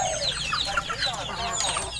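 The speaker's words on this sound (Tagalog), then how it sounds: "Nagpapakain kasi si mama ng manok." A flock of farm chickens being fed, clucking and squawking in a busy overlapping chorus close by, with a faint voice talking now and then.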